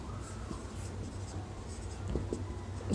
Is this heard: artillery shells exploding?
no